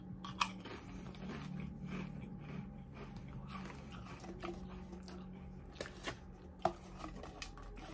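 Close crunching and chewing of shrimp-flavored chips, with steady quiet mastication and a few sharper crisp bites over a low background hum, with no talking.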